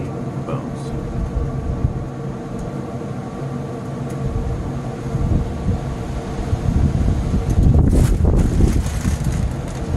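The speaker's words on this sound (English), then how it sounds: "See, it's still pretty windy out." Steady outdoor wind rumbles and buffets the microphone, building into stronger gusts toward the end.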